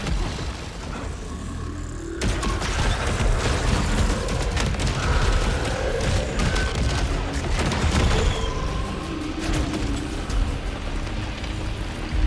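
Rapid, dense gunfire from a gun in the video game Saros, a sustained barrage of shots and booms that keeps up loudly for several seconds with no pause.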